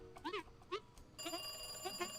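A telephone in a phone booth rings in the video game Loco-Motion, several short electronic trills that repeat in pairs and grow louder and more sustained near the end.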